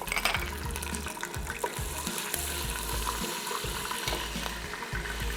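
Curry leaves and ginger-garlic paste sizzle and crackle in a hot pan, a close, continuous frying hiss with bursts of spitting and stirring, heard alone.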